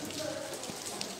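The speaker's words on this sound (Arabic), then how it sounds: "هاد الامطار الخير اللي كتنزل" Heavy rain falling in the old town of Larache, a dense steady hiss of drops on the surface throughout a brief stretch, with no clear voices.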